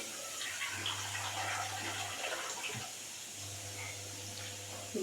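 Water runs from a kitchen tap into a bowl, a soft continuous splashing stream with a low hum that cuts out briefly midway and resumes, quiet and close.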